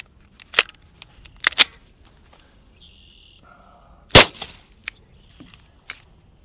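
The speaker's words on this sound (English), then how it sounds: "So let's switch over to some 147 grain subsonic rounds." Suppressed gunshots from an AAC Ti-Rant 9M silencer firing 147 grain subsonic rounds, a few sharp muted cracks spaced apart with quiet gaps and small mechanical clicks between them.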